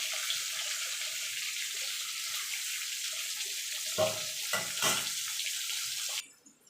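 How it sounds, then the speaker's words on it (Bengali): Potatoes seasoned with salt and turmeric fry in hot oil with a steady, dense sizzle, broken by a few brief stirring or scraping knocks near the end before the sound suddenly drops away. "এবার লাল লাল করে ভেজে নেব।"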